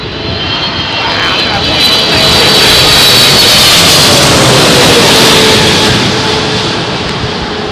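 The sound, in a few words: airliner landing in crosswind at Heathrow Airport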